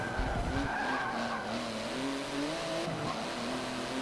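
A truck in Forza Motorsport 7 on the Mugello circuit, driven with a gamepad, roars along with its engine note rising and falling while tires squeal and skid continuously throughout, loud and steady, with no talking.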